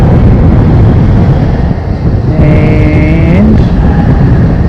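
Flight 710 from Invercargill rumbles loudly as a steady, close roar, with a brief whining tone rising midway through.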